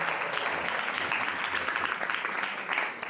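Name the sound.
audience applause at a memorial tribute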